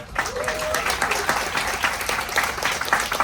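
Attendees at a marketers' event aboard a cruise ship applaud the speakers, a dense, continuous round of clapping filling the room with a faint voice mixed in.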